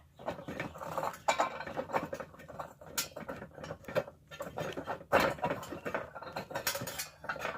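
Long metal bolt being tightened down through a small hole in a bird feeder, with irregular metallic clicks, scrapes and rattles of parts shifting, fairly close and moderately quiet, without talk.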